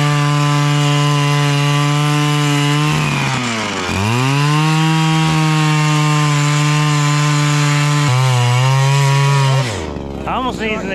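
A loud, steady motor drone from an underpowered cordless drill driving an ice auger through thick lake ice, its pitch sagging as it bogs down under load, then cutting off near the end.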